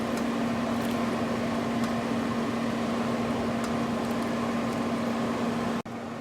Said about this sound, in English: the red wine and onion have been boiling for maybe 10 minutes